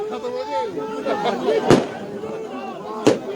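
Firecrackers burst twice with sharp, loud cracks during a BJP victory celebration outside party headquarters in Kashmir, while a crowd chatters and voices talk throughout.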